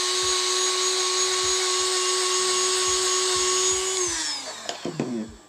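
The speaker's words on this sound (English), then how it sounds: "take your Dremel tool and clean it up by doing the edge right in there" A Dremel rotary tool whines at a steady high pitch while cleaning the edges of action figure armor, with faint ticks, then winds down and stops with a few clatters.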